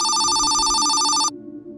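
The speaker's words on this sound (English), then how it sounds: "Sorry the phone's so loud." A telephone rings loudly with a bright, rapid electronic trill that lasts just over a second before cutting off abruptly to a low room hum.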